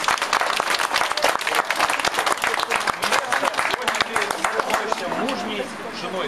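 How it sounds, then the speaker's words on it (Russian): Wedding guests break into loud, dense applause that holds steady throughout, with crowd voices mixed into the clapping. "Ваши аплодисменты."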